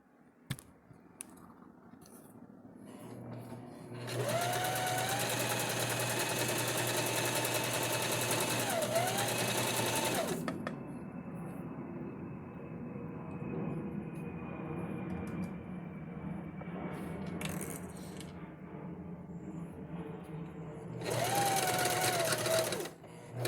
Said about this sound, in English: If I need a more secure seam, I will use the triple stitch number 15